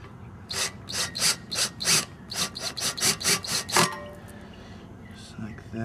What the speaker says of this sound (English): You're going to take your last 4 screws, and screw that on.